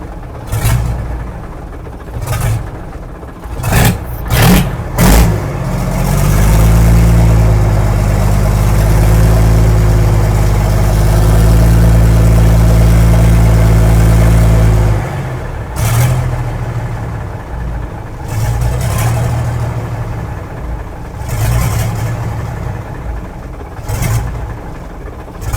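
Diesel engine of a Mack B61 truck idling just after startup, a loud, deep, steady rumble that rises and settles, with a few sharp knocks and bangs around it and no talk.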